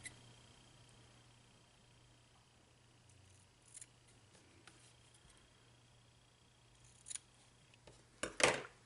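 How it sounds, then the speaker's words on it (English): Scissors cut paper tails for a handmade shaker card, heard as a few quiet, close snips spread through a near-silent stretch, ending with a sharper, louder cut. "I'm just going to go ahead and cut my little tails."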